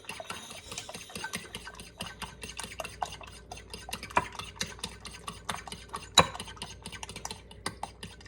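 A utensil beats raw eggs with chopped ham in a bowl for an omelette, making quick, rhythmic clicking and tapping strokes against the bowl, close and fairly quiet.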